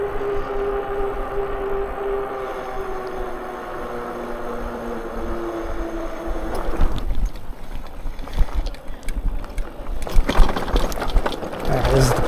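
An AWD dual-motor Puckipuppy Golden R e-bike with dual suspension rides in dual drive. A steady electric motor whine is heard up close, and rushing wind noise builds as it speeds up, with some brief talk.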